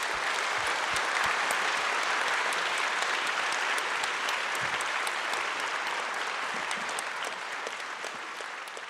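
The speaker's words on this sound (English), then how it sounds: "And I think you deserve a big applause." Audience at a talk breaks into loud, sustained applause, dense clapping from a large crowd that holds steady and tapers slightly toward the end.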